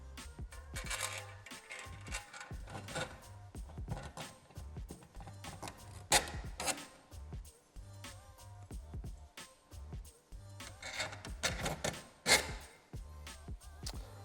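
Screws are driven into a metal frame of a TECE insertion chute, giving faint, close ratcheting clicks and metallic rattles in uneven bursts with quiet gaps.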